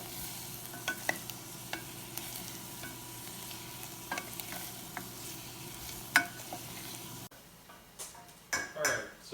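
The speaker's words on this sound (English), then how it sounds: "butter's melted, I'm going to put those onions right in. So if you can just stir those up, keep them mixed up." Onions being stirred in melted butter in a pan, a steady low sizzle running throughout with occasional utensil clinks and scrapes, louder stirring clatter near the end.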